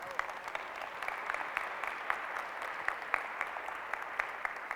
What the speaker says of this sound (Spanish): Ahora sí le brindamos un fuerte aplauso,